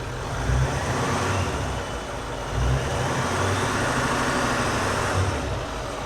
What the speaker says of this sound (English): Go rev that up a little bit for me.